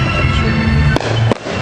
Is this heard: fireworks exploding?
yes